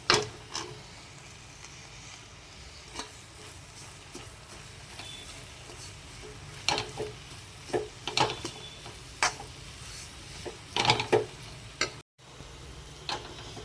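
Semolina, grated coconut and mango roasting in ghee in a pan while being stirred, a soft continuous sizzle broken by irregular scraping spoon taps, close and fairly quiet.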